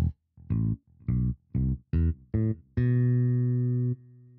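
Sampled bass in Kontakt 5 with a light delay for cumbia and cuarteto, playing six short plucked notes in a steady rhythm and then one long held note that cuts off cleanly, clear and alone with no voices.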